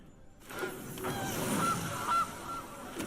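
Goose honks from a squirrel-themed deck-building video game, a few short nasal calls over a steady background of game music and ambience, moderately loud and close.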